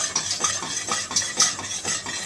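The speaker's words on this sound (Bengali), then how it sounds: "তারপরে বাকি দুধটা পরে দেবো, দিয়ে নাড়বো।" Milk stirred into a pot with a spoon while making sweet curd, rhythmic scraping and clinking strokes at a steady pace, close up with no talk.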